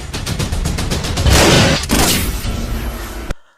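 Rapid bursts of gunfire ring out in a film scene, a dense volley of close, loud shots with booming impacts, cutting off abruptly into silence.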